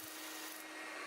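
A disc sander works on small wooden parts of a secret lock puzzle box, a steady close abrasive whir and rub lasting about a second, faint overall.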